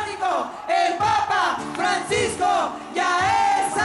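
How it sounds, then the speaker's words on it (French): A crowd in Peru cheers the Pope with rhythmic, chant-like shouting in repeated loud waves, many voices rising and falling together close by. "Le pape amazonien est félicité par la foule."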